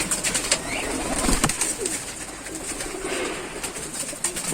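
Pigeons coo in a loft, with soft repeated coos and rustling amid scattered clicks and small bumps close by.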